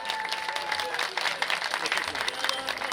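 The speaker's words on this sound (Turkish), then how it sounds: "Kocaman bir alkış alalım" Crowd at an outdoor neighborhood festival in Osmangazi, Mürseller, gives sustained applause, a dense even patter of many hands with voices and festive background sound mixed in.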